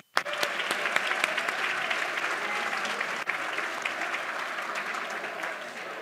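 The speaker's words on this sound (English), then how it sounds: "Round of applause for Susan." A live conference audience at a short-term rental hosting event applauds a volunteer who came on stage, giving dense, steady clapping that starts abruptly and holds evenly for about six seconds.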